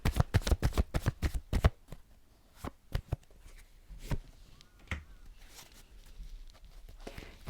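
Tarot cards are shuffled in a rapid burst of crisp riffling snaps, followed by a few scattered soft flicks and taps as single cards are drawn and laid down, close and otherwise quiet.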